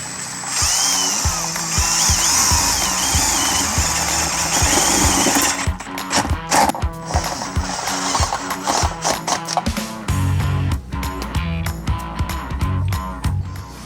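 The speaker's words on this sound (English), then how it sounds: "I'm gonna go ahead and drill a hole right here" A power drill whines loudly for several seconds drilling a hole in a boat, then gives way to a series of rapid clattering, knocking mechanical bursts.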